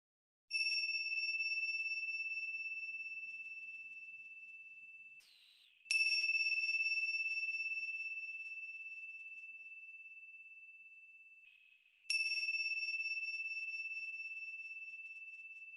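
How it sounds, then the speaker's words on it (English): Meditation bells struck three times, each a clear, bright ring that hangs and slowly fades in a long shimmering vibration before the next strike, heard alone in quiet. "As I ring the bells, just stay for the whole length of the vibration."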